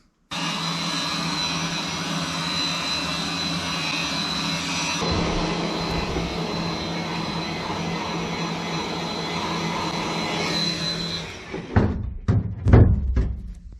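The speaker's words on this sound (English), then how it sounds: "I was wondering if maybe taking a heat gun to it would help kind of relax it" A heat gun blowing hot air onto the windshield rubber of a '72 Plymouth Fury, a loud steady fan whine and roar that runs without a break, then cuts off near the end and is followed by a few sharp knocks.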